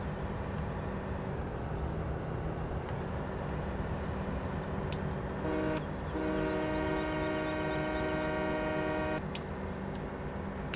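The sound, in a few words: train horn in a video game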